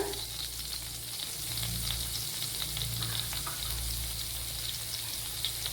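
Fenugreek seeds and chopped ginger frying in coconut oil in a pan, a steady close sizzle and crackle throughout, with soft stirring underneath and no talk.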